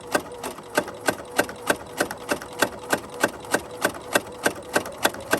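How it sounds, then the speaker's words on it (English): A sewing machine stitches a headband seam in a steady run of about sixteen evenly spaced mechanical thumps, close and moderately loud, with no talking. "we'll sew forward all the way to the very end of the headband"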